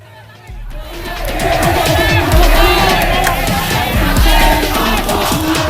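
Student protesters at a street demonstration near the Patung Kuda statue against a fuel price rise, a loud crowd roaring and shouting together, swelling after a quieter start and staying dense with overlapping voices and whoops.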